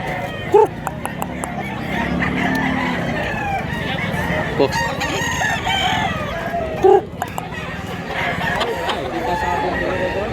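Rooster crowing at a gamefowl market in Mantalungon, Cebu, with two or three loud crows standing out over steady crowd murmur and nearby clucking.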